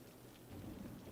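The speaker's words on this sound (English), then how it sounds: "that thunderstorm is causing a few problems" A thunderstorm in Cities: Skylines gives a faint, steady patter of rain with a low rumble of thunder swelling partway through.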